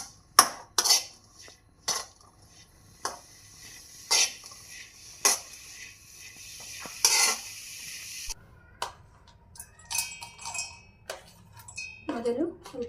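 Chopped ridge gourd fries in oil in a pan with a soft background sizzle, broken by repeated sharp scrapes and clinks as a utensil stirs against the metal.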